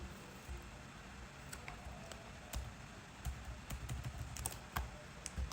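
Fingers type a Java program on a computer keyboard: quiet, irregular clicks and taps of keys over a soft background hiss, with a busier burst of keystrokes toward the end.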